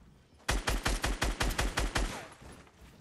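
Automatic gunfire in Fortnite Battle Royale: a rapid burst of about ten loud, evenly spaced shots lasting roughly a second and a half, ending abruptly with a faint tail.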